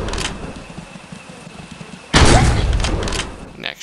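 A shotgun fires in the mobile hunting game Deer Hunter 2014: a quiet ambient stretch, then one sudden loud blast with a rumbling tail, and a faint click near the end.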